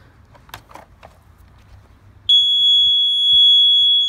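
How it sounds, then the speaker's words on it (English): A Husqvarna Automower robotic lawn mower's anti-theft alarm, sounding with a dead battery, cuts in abruptly as a loud, steady high-pitched electronic tone after a few faint handling knocks, and holds on continuously. "with the battery being dead, does the alarm still work?"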